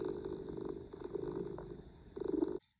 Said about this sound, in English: The cat said nothing, but purred comfortably.